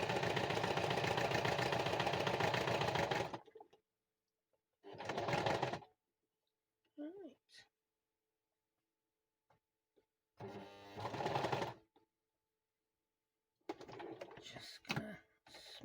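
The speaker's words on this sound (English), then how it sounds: "I'm going to continue down to where I started stitching before." A sewing machine stitching through a junk journal cover runs in short bursts: one long steady whirring run, then several briefer runs separated by quiet pauses, close and fairly loud.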